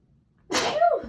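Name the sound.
sneeze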